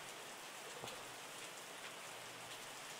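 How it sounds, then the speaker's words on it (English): Rain falling in the video game Terroir, a steady even hiss of drops on a surface, faint and continuous with no voices. "Lots of rain."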